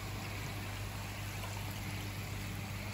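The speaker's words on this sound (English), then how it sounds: "I'll just turn this air pump on now. And that should start blowing up more air as well" A garden koi pond air pump bubbles air into the water, a constant dense bubbling hiss with a steady low hum underneath, unchanging and close throughout, with no voices.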